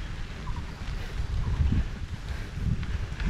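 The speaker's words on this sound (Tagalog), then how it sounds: "Ay, sarap ng hangin." Wind blows steadily across the microphone on a mountain road at Mount Barundon in Pampanga, a continuous low rumbling gust with no talk.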